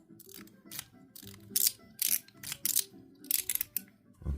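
Stainless steel balls rattling and clicking inside a titanium mechanical slider fidget toy as it is slid back and forth, producing repeated bursts of sharp metallic clatter, close and fairly quiet.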